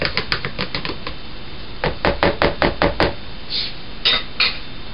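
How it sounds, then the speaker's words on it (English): A spoon stirs banana mash into a sugary moonshine mixture, giving sharp clattering knocks in quick bursts against the container, close and fairly loud with short pauses between runs. "So now we'll just incorporate this into here. And we'll give it a stir."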